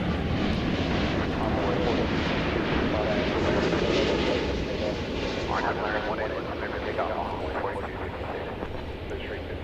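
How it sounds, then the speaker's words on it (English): Airliner arriving at DFW Airport on a flight from Shanghai, a steady loud jet roar with broadband rumble throughout, fading slightly toward the end, with faint voices underneath. "Flight coming in now from Shanghai."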